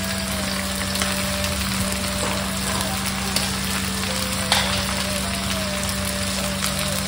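Onions and bay leaves fry in hot oil for a chicken curry, giving a steady, dense sizzle that runs unbroken at close range with a few small pops and clicks.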